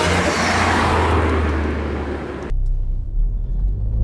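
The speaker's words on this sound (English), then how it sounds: "there you go, your first slight glimpse of what the induction kit sounds like from the driver's seat" Ford Fiesta ST MK8 fitted with a Pro Alloy induction kit, heard from the driver's seat as a loud, continuous engine drone and intake roar that drops suddenly to a low cabin rumble.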